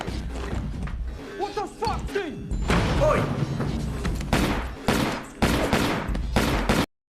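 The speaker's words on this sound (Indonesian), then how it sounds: "terjadi baku tembak sengit antara kelompok Richie dan geng Aaron" Heavy gunfire crackles through a movie shootout between rival gangs, with dense bursts of shots, thuds and impacts packed close together and loud, a few voices briefly cutting in amid the chaos.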